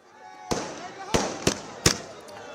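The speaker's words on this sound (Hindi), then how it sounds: "अयोध्या में इस वक्त शानदार आतिशबाजी की जा रही है।" Fireworks burst over the Saryu river bank at Ayodhya during a celebration, four sharp cracking bangs spaced unevenly and moderately distant, with a faint murmur of crowd noise between them.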